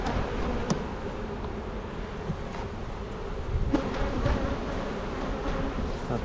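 Honeybees buzz continuously around a small hive in a nuc yard, a dense close drone with a few individual bees passing near.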